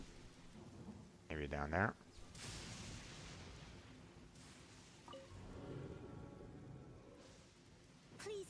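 Rain from a thunderstorm in Genshin Impact's Inazuma region hisses steadily and faintly, with a few low rumbling bursts, while a player speaks briefly over the storm.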